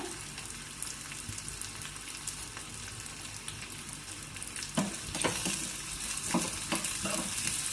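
Onions fry for a mushroom curry with a continuous moderate sizzle, then a run of brisk scraping stirs against the pan near the end.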